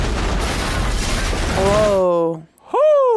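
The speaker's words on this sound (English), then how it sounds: "That was a hell of an explosion." A loud, dense blast from a scene in the film Django Unchained, a sustained rumbling roar that cuts off abruptly after about two seconds, followed by excited exclamations from people nearby.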